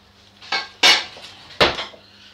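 Kitchen utensils clatter and knock on a work surface during preparation of bell peppers, three or four sharp close impacts with quiet gaps between, no voices.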